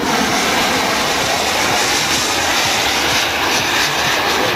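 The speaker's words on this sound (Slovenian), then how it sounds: "Potem pa tudi polet Piperja PA14, Miha Kramberger" A Piper PA-14 light aircraft flies at a small-aviation airshow, its piston engine giving a loud, continuous drone that stays even for the whole stretch, with no voices over it.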